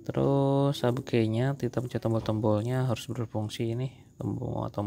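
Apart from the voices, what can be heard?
No everyday noises stand out.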